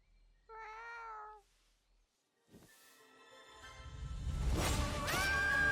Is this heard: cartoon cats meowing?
yes